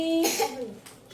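A child gives a single short, sharp cough up close indoors, followed by a brief voiced sound.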